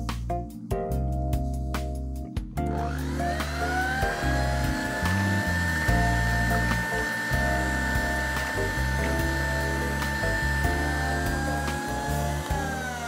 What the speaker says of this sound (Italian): Versiamo la panna in una ciotola e la montiamo